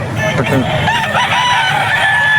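A gamefowl rooster crows loudly nearby, its drawn-out call rising and falling over a busy background with chatter and other birds.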